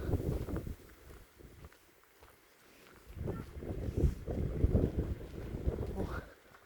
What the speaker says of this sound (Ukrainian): Страшний вітер.